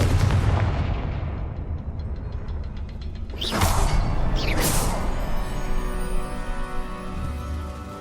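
Two sharp, loud fiery blasts from the Confringo spell in the Hogwarts Legacy video game go off about a second apart, rising with a whoosh over a low, rumbling ambient drone, in a stretch without speech.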